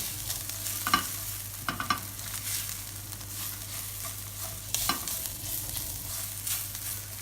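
Finely chopped garlic frying in a pan for apricot chicken, a gentle even sizzle with a few light stirring scrapes, close and without voices.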